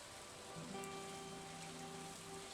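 Rain patters steadily in the farming video game Stardew Valley, a soft even hiss with faint tonal background music underneath.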